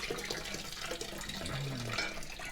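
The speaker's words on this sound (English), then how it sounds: "you can see the rest of the water is going to drain down into our bucket" Water draining from an emptied toilet tank down into a bucket during fill and flush valve replacement: a soft, continuous trickling and gurgling, quiet and close, with no talking.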